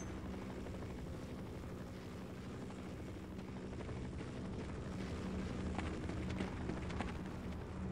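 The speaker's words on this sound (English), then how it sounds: "So I need to deal with these guys with the helicopter overhead." Helicopter flying overhead in the video game Half-Life, a steady rumbling rotor drone that stays constant throughout, fairly faint and distant, with no speech.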